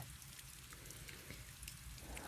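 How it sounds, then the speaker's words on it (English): Gentle steady rain lingering after a thunderstorm passes, a soft continuous patter with scattered drops, even and unbroken throughout with no voices. "That storm is basically gone, just rain now. Good sleepy rain."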